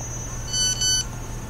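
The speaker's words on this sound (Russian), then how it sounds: "Опа, что-то на телефон пришло." A short electronic double beep from a phone message notification in the horror game Cry of Fear. Two brief, clear tones sound close over a low steady hum, with no talking.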